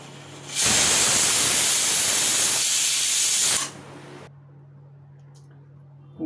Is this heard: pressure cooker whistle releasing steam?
yes